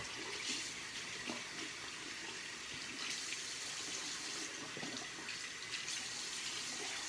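A face cloth is rinsed under a running tap, giving a steady close splashing rush of water with small changes as the cloth moves through the stream.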